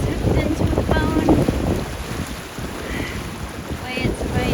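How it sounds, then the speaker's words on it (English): Strong wind buffets the microphone on open water while fly fishing for tarpon, permit and bonefish off Puerto Rico, a loud continuous rushing roar with faint voices underneath. "it's windy as hell"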